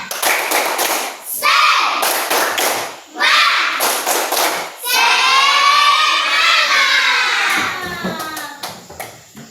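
A classroom of children claps a rhythmic spirit clap in sharp, loud bursts separated by brief pauses, with the class shouting and chanting over the claps.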